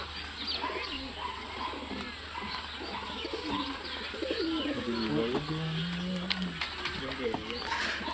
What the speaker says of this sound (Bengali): আর আমি এক জোড়া পায়রা দেখাবো, মানে আমার দিলের পায়রা